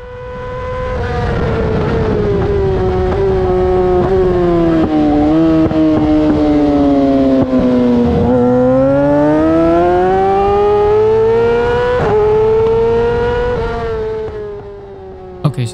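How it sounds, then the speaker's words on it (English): A Yamaha R6 sportbike at wide open throttle on a racetrack, its high-pitched engine screaming continuously and very loud, dipping briefly at a shift before winding up again. "I get a really good apex and early drive, wide open throttle, and the bike is fast."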